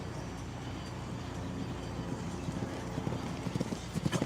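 Hooves of a show-jumping horse thud and clip-clop across an arena during a 1.55 m five-star grand prix round, faint under crowd murmur at first, then growing into quicker, louder beats toward the end.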